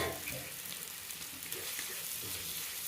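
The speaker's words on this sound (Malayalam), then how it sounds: "ഇതാ ഉള്ളി അരിഞ്ഞ് വെച്ചത് ചോന്നുള്ളി നല്ലോണം ഒന്ന് ചോന്ന് വഴണ്ടി ഇട്ടിട്ട് കേട്ടോ" Large chopped onions sizzling and frying in a pan for a curry, a steady close hiss of oil and moisture with faint stirring, continuous throughout.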